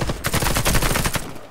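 AK-103 rifle fired in the Warface video game: a rapid burst of about a dozen sharp, loud shots in quick rhythm, close and alone with no talk.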